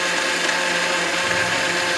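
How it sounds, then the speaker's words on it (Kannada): A kitchen mixer blender runs continuously, blending a banana and oats smoothie with a steady, loud whirring drone that does not let up. "ಆ್ಯಂಡ್ ಇವಾಗ ಮಿಕ್ಸಿ ಮಾಡ್ಕೊಳ್ಳೋಣ"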